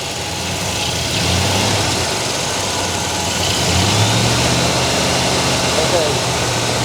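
1987 Monte Carlo SS with a 305 V8 running at about 2000 RPM, a loud, steady, close engine drone with little variation in level.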